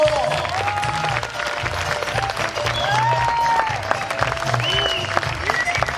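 Theatre audience applause at a nighttime outdoor play, steady continuous clapping from a crowd throughout, with voices and a low rhythmic sound in the background.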